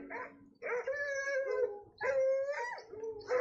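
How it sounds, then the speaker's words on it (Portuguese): Dogs howling in long, wavering tones with whimpering mixed in, heard in three drawn-out bursts, close and fairly loud. "Cachorrinhos."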